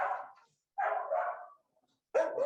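Shelter dogs in kennels bark in three separate bursts with short silent gaps between them, the middle burst doubled and the last sharp and close, all fairly faint.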